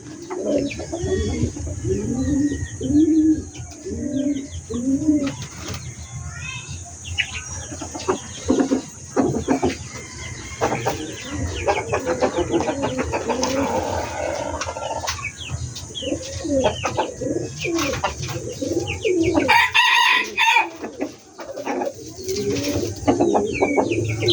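Chickens cluck and coo around newly hatched chicks, one white and one black, in a steady busy chorus of hen calls with faint chick peeps mixed in and a constant background hum.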